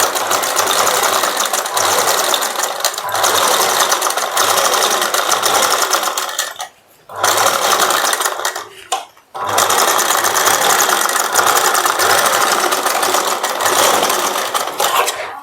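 A sewing machine runs steadily while stitching along the side of a blouse's boat neckline, its dense mechanical whir continuous and close, broken by two brief pauses midway before resuming at full pace.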